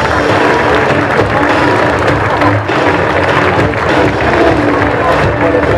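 An outdoor crowd at the Tour de France Femmes start in La Gacilly applauds the dictation contest winners. Dense, steady clapping and crowd noise fill the whole stretch at high volume.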